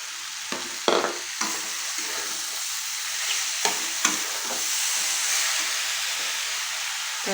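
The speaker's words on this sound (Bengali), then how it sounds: "তারপরে আমি এই গুড়টাও এটার সঙ্গে মিশিয়ে দিচ্ছি।" A pan of mango pickle with sugar and jaggery being stirred, with a few distinct scraping strokes early on over a continuous hissing sizzle that swells toward the end.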